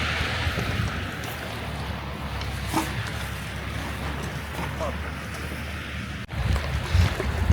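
Strong wind blowing outdoors by a shoreline where a small boat sits hauled up on land, a steady roaring rush buffeting the microphone, with a sharp thump near the end.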